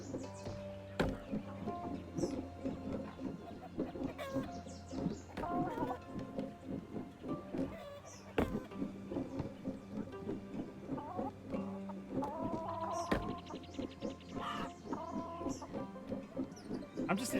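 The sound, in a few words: chicken clucking in the video game Egging On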